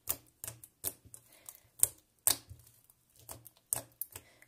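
Glossy slime packed with glitter is worked by hand, making a run of sharp, crisp clicks and pops at irregular intervals, close and distinct against near silence.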